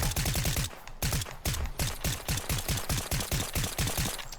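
The full-auto Precision weapon in Fortnite tap-fired in quick repeated bursts, a loud rapid string of sharp shots with short pauses between groups.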